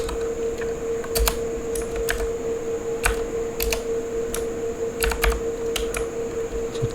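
Keys clatter on a computer keyboard while PHP code for array examples is typed, an irregular run of close, crisp clicks in short bursts over a steady background hum, with no talking.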